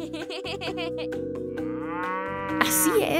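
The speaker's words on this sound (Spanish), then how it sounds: "Una gran vaca amigable." A cartoon cow gives a drawn-out moo over bright, bouncy children's music, the low bellow sliding in pitch, with a short high chime near the end.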